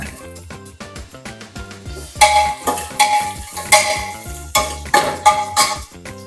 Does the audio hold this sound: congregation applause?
no